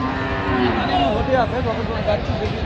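Huge cattle at a busy livestock market moo loudly and close by, with deep drawn-out calls overlapping one another amid the crowd's din.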